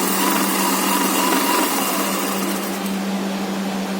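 A sewing machine stitches pant fabric in a boutique, giving a steady, close, high-pitched mechanical whir with a constant hum that runs evenly throughout without talk.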